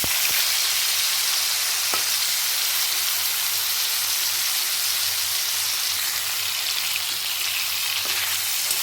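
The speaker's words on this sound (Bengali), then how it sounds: "এই একই তেলে এখন আমি চিংড়ি মাছগুলোকেও ভেজে নেব" Prawns frying in hot oil that was just used for paneer, giving a steady, close, even sizzle throughout with a few faint clicks and no talking.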